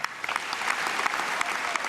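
Dense applause from an audience at a Labour Party speech, many hands clapping at once in a steady, fairly close burst.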